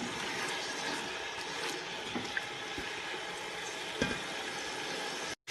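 Chicken fries with ginger and garlic in a pot for Sindhi pulao, giving a steady close sizzle and crackle with occasional stirring clicks from a utensil, and no talking.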